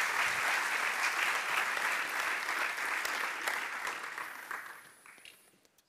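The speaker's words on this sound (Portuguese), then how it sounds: "Eu peço uma salva de palmas e vamos ouvir." An audience applauds at a book event ahead of a musical reading, a loud, dense wash of clapping that continues for several seconds, then fades and thins out toward the end.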